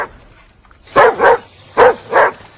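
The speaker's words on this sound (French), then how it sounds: "T'es un bon chien." A dog barks four times in two pairs, loud and close, with short gaps between the paired barks and no talking over them.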